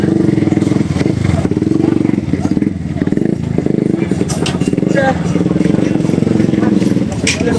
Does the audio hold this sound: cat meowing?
no